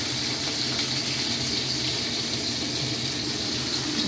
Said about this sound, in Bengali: হাতটাও ধুয়ে নেবো একটু।